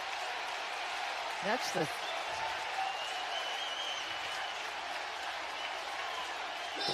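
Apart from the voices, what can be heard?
crowd applauding home run at Citi Field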